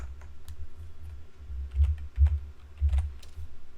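Coordinates for a Rhino drawing being typed on a computer keyboard, a faint run of quick, irregular keystrokes with a few heavier taps in a quiet room.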